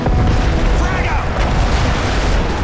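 A frag grenade detonates in the Call of Duty MW3 singleplayer campaign with a loud, deep boom whose rumble fills the whole stretch, while soldiers' voices call out over the blast.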